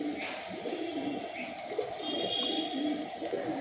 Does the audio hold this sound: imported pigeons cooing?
yes